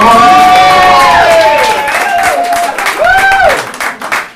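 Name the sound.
audience applause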